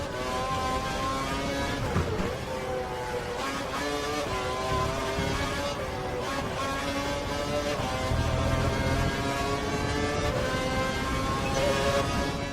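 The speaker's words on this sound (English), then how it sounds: "The car behind is running on full revs." A race car engine at full revs in the F1 2012 video game at the German Grand Prix: a steady, high, whining engine tone that rises and falls through gear changes. It stays continuous and moderately loud, with no voices.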